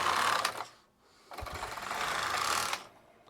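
Knitting machine carriage making two circular passes, two rapid mechanical whirring sweeps separated by a brief pause, close and fairly quiet.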